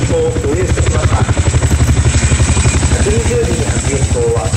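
A CH-47 Chinook transport helicopter arrives with a 120mm mortar during a live-fire military exercise at Fuji, its steady rotor thump pulsing loud and close under a public-address voice.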